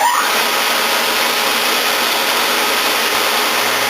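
A drill bit grinder's spindle running at speed, a loud, steady broadband whine and rush that stays constant from start to finish with no talk.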